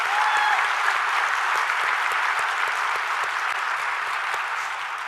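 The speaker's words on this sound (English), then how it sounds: "Let's give our AE teams a round of applause." An audience claps steadily for aeromedical evacuation teams at a military keynote event, a dense, sustained wave of applause that holds loud throughout and fades slightly at the end.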